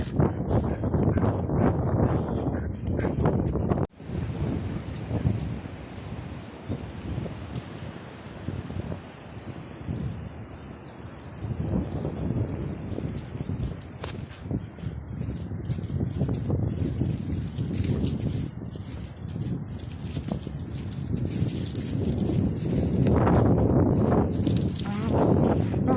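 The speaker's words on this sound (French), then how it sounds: "J'avais oublié qu'il y avait autant de vent." Strong wind gusts roar through the woods, broad rushing noise with microphone buffeting, rising and falling over time, with a sharp break early on and no talk.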